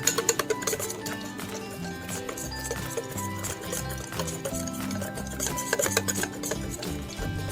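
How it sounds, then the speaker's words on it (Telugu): Bajji batter mixed with an egg gets stirred in a bowl, a spoon clinking and scraping rhythmically against the sides over music playing in the background. "దీన్ని కూడా ఇలా కలిసేదాకా కలపండి"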